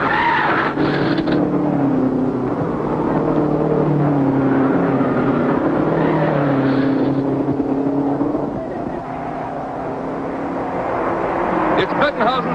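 Race cars at the 1951 United States Grand Prix roar continuously with engine tones rising and falling as they pass, heard beneath steady commentary from an announcer.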